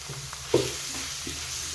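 Spiced masala with chilli and turmeric powder frying in oil, making a soft, steady sizzle close by, with a few light knocks from stirring.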